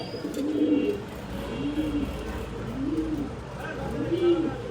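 Pigeons in breeding mood, fancy red Lahori birds among them, coo in four slow, rolling phrases about a second apart, close and steady over a background of voices.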